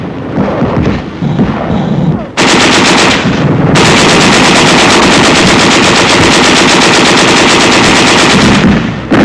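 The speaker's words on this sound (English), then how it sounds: "There is some machine gun fire and occasional shells," Machine gun fire in 1945 combat footage, a loud, sustained rattling burst of automatic gunfire that fills nearly the whole stretch after a brief lull, with rough battlefield noise beneath.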